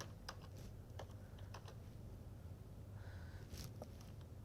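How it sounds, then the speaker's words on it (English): Keys clicking on a computer keyboard as a journal title is entered, a steady run of close, fairly quiet taps with a short pause midway, no talking. "if you know the journal, you can simply type over here"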